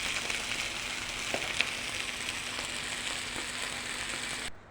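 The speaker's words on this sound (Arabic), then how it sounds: "نزلنا بالبتنجانيه كده، قلنا نشويها بالمره جنبه نفس الطاسه او الجريل" Eggplant slices sizzle on a very hot grill pan with a little oil, a steady close frying hiss with soft crackles that runs evenly and then cuts off abruptly at the end.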